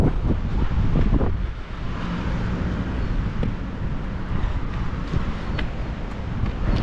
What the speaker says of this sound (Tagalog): ang lamig talaga at malakas pa ang hangin